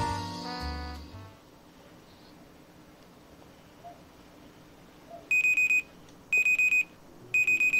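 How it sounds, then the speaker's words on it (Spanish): Alarm clock in the visual novel Seiyuu Danshi beeps in three loud, evenly spaced bursts of rapid high-pitched bleeps after a quiet stretch, with brief music at the start. "Porque la alarma está prendida, ¿no?"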